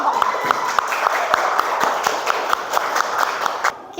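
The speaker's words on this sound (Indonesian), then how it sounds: "Tepuk tangan sekali lagi untuk kelompok." A classroom audience gives applause for a presenting group, a fairly sparse, uneven patter of hand claps with sharp individual strikes that stops abruptly near the end.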